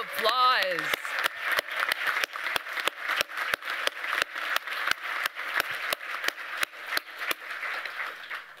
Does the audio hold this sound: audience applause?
yes